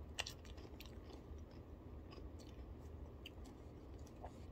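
Pringles Scorchin spicy chips being eaten up close, with faint, steady chewing and small crisp crunches and no talking.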